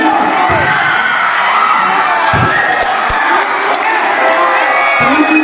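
A loud crowd cheers and shouts steadily at an inter-barangay basketball tournament game, with ball bounces, whoops and voices mixed through the roar.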